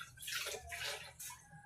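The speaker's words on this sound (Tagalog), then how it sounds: "Ako naman ang hugas sa plato." Running water splashes steadily as dishes are washed by hand, with rushing surges and a short break before the flow resumes, close and fairly loud.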